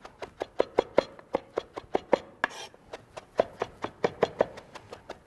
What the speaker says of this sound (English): So I'm bringing these together, chopping.